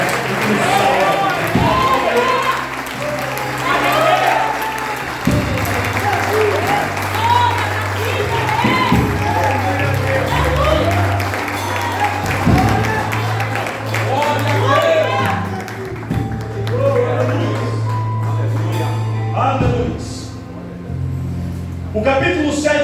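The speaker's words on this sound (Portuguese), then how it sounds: "Dá uma salva de palmas àquele que salvou a mulher e que nos salva." A church congregation at a communion service claps, a rolling wave of applause and some cheering heard with music playing underneath, and voices come through amid the clapping.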